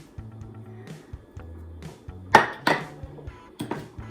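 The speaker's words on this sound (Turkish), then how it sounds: "mayalamadan önce bir iki kasede karıştırıyorum" A spoon stirs yogurt starter in a bowl, giving a few soft scrapes and several sharp clinks against the dish. The sounds are close and fairly quiet, separated by short pauses.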